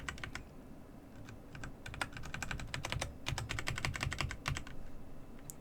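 Arrow keys on a computer keyboard are tapped in quick, irregular bursts during a game of Brogue, giving close, crisp clicks that sometimes come in rapid runs, with no talking.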